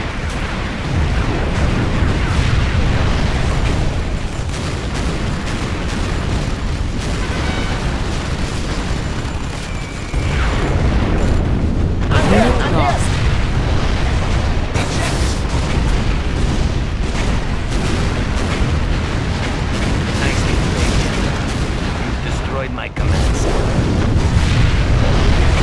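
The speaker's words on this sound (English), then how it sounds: "How about those rocket strikes?" Heavy rocket strike explosions in C&C Generals Zero Hour, a loud sustained barrage of booming blasts and rumbling detonations with sharp bursts near the middle and a sudden crack late on, no talk over it.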